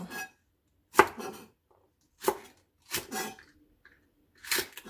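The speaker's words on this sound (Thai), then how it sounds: "ต้นหอมเราก็หั่นแบบนี้เลย" A knife chops spring onions on a cutting board: four or five crisp, separate strikes with short pauses between them.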